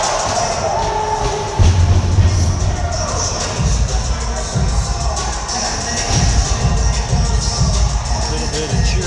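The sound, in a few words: crowd cheering at ice hockey game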